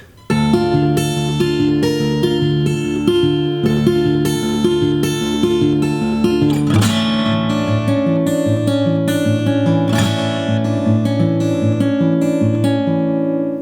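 Guitar plays a song for about fourteen seconds, a bright strummed sound that shifts to a darker minor bridge halfway through with no voice.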